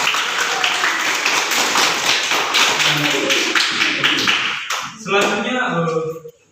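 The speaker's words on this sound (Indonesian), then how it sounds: "Tepuk tangan untuk istri." A group of children claps together at a school health-education session on clean and healthy living habits. The dense, loud clapping runs for a few seconds, then fades as a voice starts talking.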